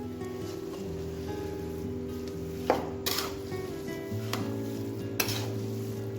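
A spoon stirs a raw mango pickle mixture with sodium benzoate added, scraping softly and steadily against the container, with a few sharper knocks along the way; no one talks.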